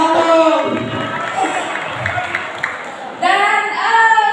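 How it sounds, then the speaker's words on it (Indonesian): Students at a Jakarta senior high school literacy event cheer and clap as a crowd, a lively mix of shouting voices and applause rising again toward the end. "Masya Allah, tepuk tangan."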